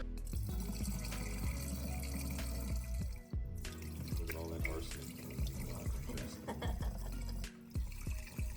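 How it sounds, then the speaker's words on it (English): Short grain rice rinsed under a running kitchen tap, with a continuous loud rush of water and swishing and splashing of grains in the pot throughout, close and with no speech. "Make sure to rinse your rice at least 3 times to get all the extra starch and other impurities off of the rice."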